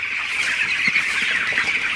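Broiler chickens crowded in a shed, with a dense continuous chorus of chirping and clucking from many birds. No voices.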